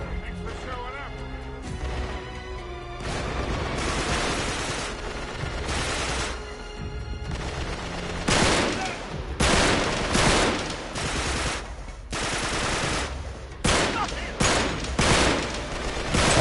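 Dense bursts of gunfire and crashing impacts from the video game Uncharted: Drake's Deception fill the scene, with heavy volleys coming in several waves and a voice talking over the action.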